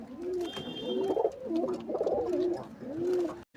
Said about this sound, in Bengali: এই একটি লাল মেডাস পায়রা আছে